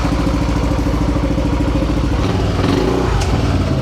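A Yamaha Nmax 155 scooter fitted with a Vmax Onyx open muffler idles with a loud, close, rapid throbbing exhaust pulse, then rises briefly in a short rev before settling again.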